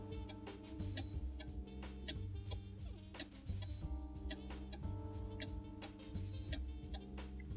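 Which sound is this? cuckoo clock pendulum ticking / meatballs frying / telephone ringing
cuckoo clock pendulum ticking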